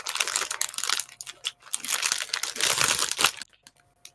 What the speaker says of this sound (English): I'm hearing a lot of rustling.